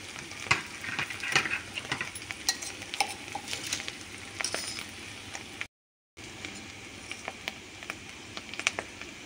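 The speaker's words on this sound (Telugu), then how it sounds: "నూనెలో కొంతసేపు వేగనివ్వండి" Pieces of cluster bean (guar) sizzle and fry steadily in hot oil in a pan, with occasional stirring scrapes and clinks, close and continuous with a brief gap.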